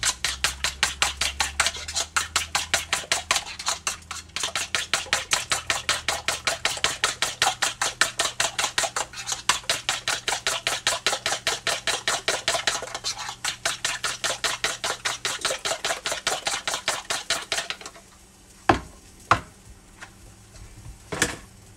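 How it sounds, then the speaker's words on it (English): Two eggs are beaten in a bowl with a fork or whisk for homemade ice cream, a fast, steady clicking rhythm that runs close and even for most of the time, then stops with a few scattered taps. "I'm gonna go ahead and beat my 2 eggs."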